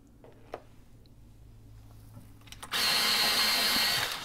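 A Holbein colored pencil, white shade 501, being sharpened in a pencil sharpener: a loud, steady grinding whir starts abruptly partway through and runs continuously to the end after a quiet stretch.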